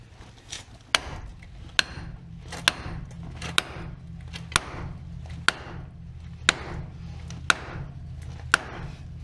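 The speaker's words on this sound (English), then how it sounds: "knock it in there some more" A hammer knocks a tie rod into place on a Dodge Caravan during a tie rod replacement: about ten sharp metallic blows struck at a steady rhythm roughly one per second, loud and close over a low background hum.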